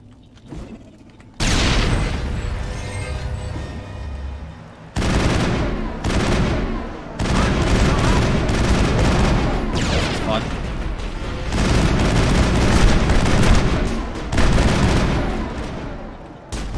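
A grenade explodes at a husk's feet amid gunfire in Mass Effect, loud sustained bursts of shooting and booming blasts in several long stretches after a quiet opening, with a player's voice heard over the combat.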